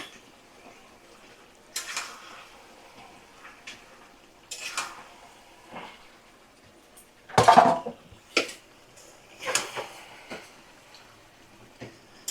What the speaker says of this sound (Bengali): সুন্দর করে ধুয়ে রাখা মাটন আমি এবারে দিয়ে দিলাম